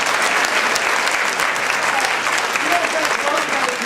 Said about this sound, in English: So all the teachers here, give yourself a big applause.